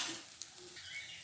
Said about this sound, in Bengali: চালটাকে কড়াইয়ে দিয়ে দিচ্ছি। এটাকে বেশ ভালো করে আমায় ভেজে নিতে হবে।